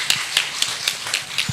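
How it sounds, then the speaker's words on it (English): Six evenly spaced sharp claps ring out, loud and close, from a single pair of hands at an academic welcome for a visiting professor, with a thin room hum between them. "Give applause."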